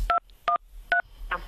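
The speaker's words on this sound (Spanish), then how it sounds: "Márcame en el teléfono el código siguiente" Telephone keypad DTMF tones enter a short code on a phone: three clear, evenly spaced beeps and a fainter fourth, crisp and close with no talk over them.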